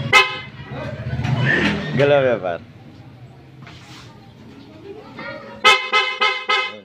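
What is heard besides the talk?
motorcycle horn honking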